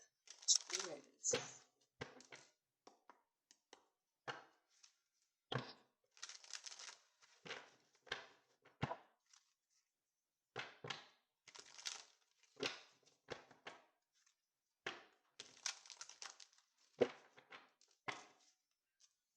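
Crisp bursts of tarot card shuffling and riffling recur every second or so, close to the listener, with rustling and crinkling between them and no talking.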